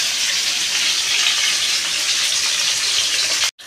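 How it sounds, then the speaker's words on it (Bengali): Potatoes fry in hot oil with a steady, dense sizzle that stays loud and even throughout, cutting off abruptly near the end. "আমি আলুটা ভেজে নিচ্ছি"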